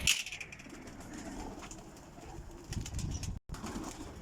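Pigeons coo in a loft of champion breeder birds, soft murmuring calls spread through the clip over a low, steady background hum, with a brief dropout near the end.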